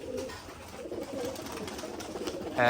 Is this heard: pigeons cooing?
yes